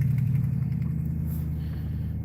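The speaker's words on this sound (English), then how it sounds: "Oh, there goes one truck." A truck driving past on a frozen ice-fishing lake, heard as a steady low engine rumble that holds at a fairly even level throughout without a clear rise or fade.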